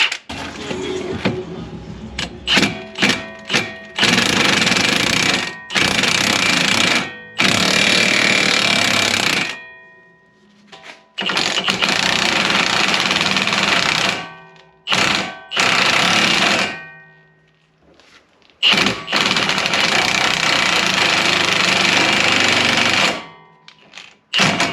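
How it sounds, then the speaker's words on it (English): A wheel stud bolt on a Scion FR-S is tightened to pull an ARP aftermarket stud into the hub: loud, close power-tool bursts repeat in stuttering runs, separated by short silent pauses, with no talking. "when I end up tightening this bolt, and you'll see this stud start going in this way"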